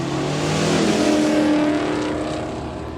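A hot rod racing down the strip at Kooralbyn Valley in Horsepower Valley, its loud engine roaring with a rising then fading pitch as it accelerates past, alone without talk.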